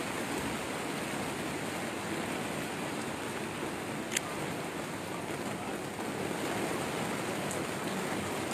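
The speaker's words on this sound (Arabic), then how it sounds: "تقدر تصبر هذا الكم الهائل ديال الأمطار" Heavy rain pouring down in the Moroccan city of Benslimane, a dense, steady hiss of water on surfaces with no break, broad and even throughout, with no voices.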